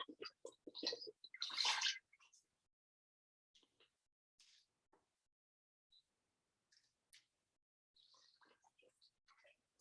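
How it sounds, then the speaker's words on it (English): Water pours into a pot of rice in a brief splashing rush, then gives way to a few faint, scattered clicks and taps in a quiet kitchen. "I'm going to just put my water in right now."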